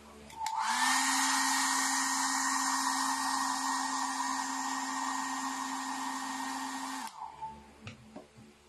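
A hair blower dryer runs steadily for about six seconds while assembling a black custom model kit, a loud, continuous whirring hum that cuts off abruptly, followed by a few faint handling clicks.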